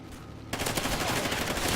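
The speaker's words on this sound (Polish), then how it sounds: "Stamtąd strzelają chyba." Rapid automatic gunfire from Call of Duty: Ghosts multiplayer starts abruptly after a short quiet lead-in, then continues as dense, loud, sustained bursts of shots.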